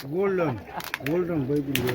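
Pigeons coo in low, rolling, repeated calls close by, among a flock of pigeons kept for sale, with a voice speaking partly over them.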